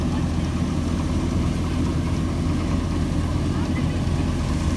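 A tractor engine running slowly while powering a wheat thresher: a steady, low, droning mechanical hum with a rough texture that holds constant throughout.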